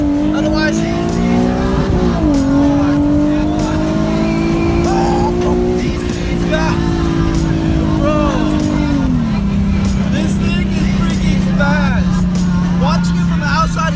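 A tuned bolt-on Nissan 370Z heard from inside the cabin, its engine droning loud and steady as it pulls hard, pitch climbing then dropping at gear shifts, with voices talking over it.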